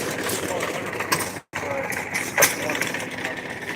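Antique hit-and-miss engines run at an outdoor power show, a busy mix of mechanical chugging and clattering from several machines nearby, with a brief cut midway and a person talking over them.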